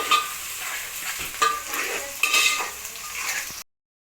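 A pan of curry with turmeric is stirred, giving steady sizzling with repeated scraping strokes of a spoon against metal, fairly close and moderately loud, before the sound cuts off abruptly near the end.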